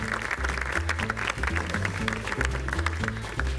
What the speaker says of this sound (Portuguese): Salve de palmas para o José Santana.